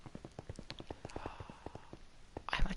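Rapid, steady clip-clop of horse hooves trotting on a hard surface in Minecraft, a regular rhythmic clatter at moderate volume, with a brief louder noise at the end.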